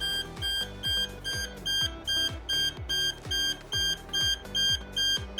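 A Habotest HT90 AC voltage detector beeps loudly and close up in a fast, regular run of about a dozen short, bright electronic bursts, evenly spaced and pulsing without pause.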